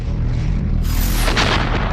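An Excalibur GPS-guided artillery shell is fired from a cannon, a loud, close blast that breaks into a sustained, rolling roar.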